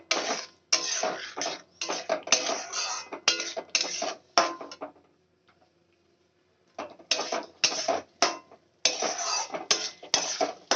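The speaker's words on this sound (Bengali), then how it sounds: "এবার আমি মশলাটা ভালো করে কষিয়ে নেব।" Masala with a little added water is fried and stirred in a pan for a cauliflower and potato dalna. Rhythmic bursts of close scraping and clattering come from the spatula, with a quiet pause partway through.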